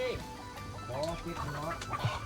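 Ducks and chickens are being caught at a rural Thai home, with faint, nearby clucking and fowl calls scattered under people talking.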